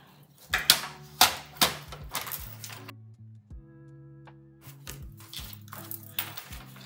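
Paper for a handmade card is cut with a series of crisp, sharp snips and clicks, several bursts in quick succession separated by quieter gaps, close and fairly loud.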